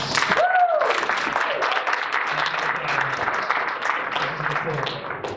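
A crowd at a comedy evening in an athletic club claps on cue, a burst of applause that thins slightly over a few seconds, with a voice and murmuring audience talk mixed in.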